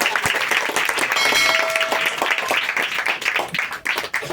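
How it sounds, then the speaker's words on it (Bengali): A congregation at a Christian prayer service claps loudly together, a dense, sustained patter of many hands close by that swells and thins slightly over several seconds, with faint voices mixed in. "সবাই জোরে হাততালি দিন"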